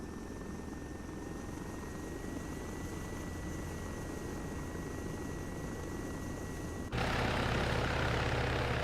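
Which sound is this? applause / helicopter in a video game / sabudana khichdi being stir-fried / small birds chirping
helicopter in a video game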